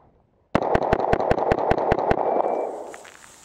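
A carbine fires ten rapid, evenly spaced gunshots at 5 yards in a timed shooting drill. The loud cracks land in a quick steady rhythm and the last one rings into a fading echo.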